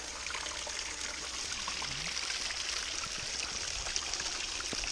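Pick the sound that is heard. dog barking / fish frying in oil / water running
water running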